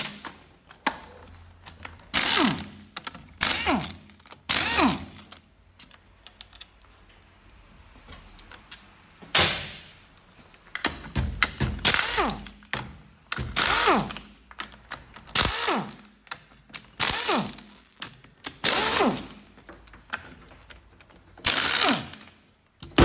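A ratchet clicks in repeated short bursts while 13 mm bolts are removed from the underside of an automatic transmission casing. The bursts are close and crisp, separated by brief pauses and occasional metallic clunks, and no one speaks.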